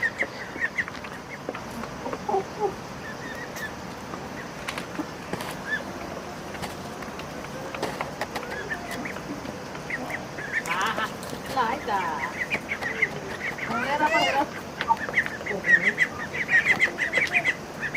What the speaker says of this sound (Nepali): दाना खाइसकेर कुखुराहरूले चाहिँ पानी खान आउँछ